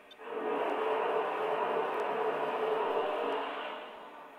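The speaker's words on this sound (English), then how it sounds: "Here is the blowdown sound." A steady, loud hiss of escaping steam from a Lionel Vision Line 49'er Challenger model locomotive's blowdown effect, rising quickly, holding for about three seconds, then tapering off.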